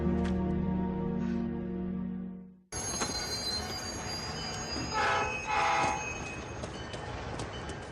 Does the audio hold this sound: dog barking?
no